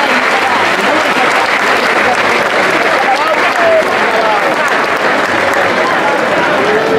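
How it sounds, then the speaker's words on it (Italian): Sustained, loud crowd applause during the Gesù Nazareno religious festival procession in San Giovanni Gemini, steady clapping from many people throughout. "a loro rivolgiamo un grosso applauso"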